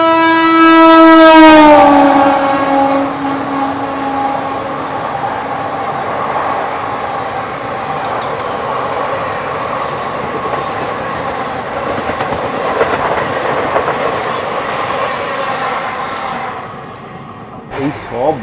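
The Tirupati–Puri Superfast Express, train 17480, arrives with a loud horn blast at the start, then a sustained rumble and clatter of coaches rolling past nearby, fading toward the end.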